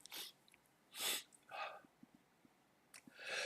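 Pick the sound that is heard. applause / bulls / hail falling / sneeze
sneeze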